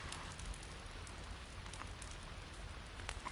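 Steady, dense rain patters continuously in The Forest survival game, an even hiss of drops with no voices.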